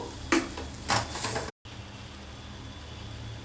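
Turmeric and salt frying in hot oil give a steady, close sizzle, with a few louder stirring scrapes early on and one brief dropout midway.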